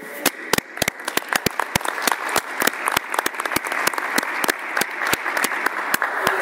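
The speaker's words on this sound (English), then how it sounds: "So definitely want to applaud all of you here in Boone." Applause from a school board meeting audience for the teachers of Boone, with dense, steady clapping that holds at a moderate level throughout, without talk.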